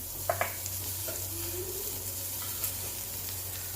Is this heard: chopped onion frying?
yes